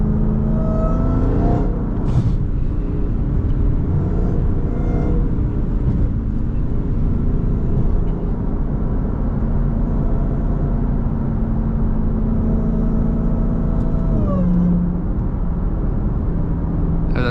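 A Dodge Hellcat drives through busy traffic, its supercharged engine giving a steady loud drone and rumble throughout, with a rising whine near the end.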